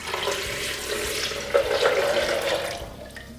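Filtered water pours steadily into a blender for a few seconds, a close, continuous splashing rush that fades slightly at the end.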